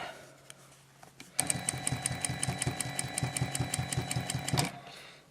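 An industrial sewing machine stitches through the bulky layers of a reusable fabric face mask, starting after a pause and running in a loud, steady rhythmic clatter for several seconds before stopping.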